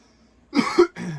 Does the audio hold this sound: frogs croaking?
no